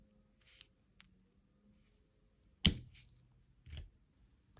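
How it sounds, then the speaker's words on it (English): Jewelry wire is snipped with sharp, isolated clicks, one louder cut standing out among a few softer taps, close and clear in a quiet room while making beaded gold earrings. "And I'm going to go ahead and cut."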